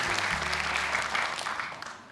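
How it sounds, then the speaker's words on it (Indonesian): An audience at a Hafiz Indonesia competition show bursts into sustained, even applause, a dense clatter of many hands that tapers off slightly at the end. "Tepuk tangan untuk Kak Nabila atas koreksinya untuk kedua peserta."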